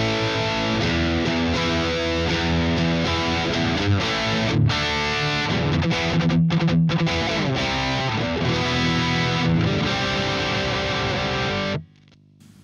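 A distorted electric guitar plays chords and riffs through a Marshall JCM800 amp with moderate gain, loud and alone, ending abruptly.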